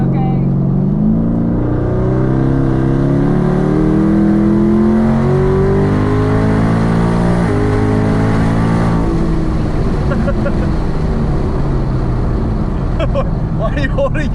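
A Chevrolet Camaro accelerating hard, its engine revving loud and close as the pitch climbs steadily through gears, with brief shifts, then dropping off into rumbling as people talk over it.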